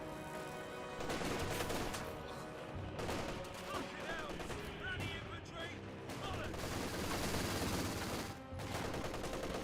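A Vickers machine gun fires in the Company of Heroes 2 war game, with repeated bursts of gunfire amid other battle shots and explosions, in a dense, continuous barrage.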